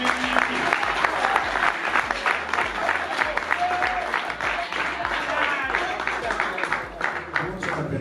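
An audience claps for a young football player, sustained dense applause lasting several seconds, with voices mixed in under the clapping.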